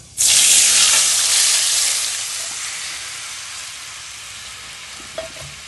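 Mashed tamarind water hits a hot pan of country crab curry with a loud burst of sizzling that slowly fades into a softer, steady hiss over several seconds, with a small clink near the end.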